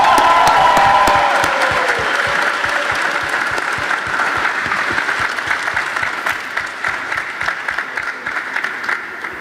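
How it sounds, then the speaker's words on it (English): A crowd at an athletic club seminar bursts into loud applause with a few cheers at the start, then the clapping thins into distinct, rhythmic individual claps that slowly fade. "if we could please give a huge round of applause to HD and Dorian."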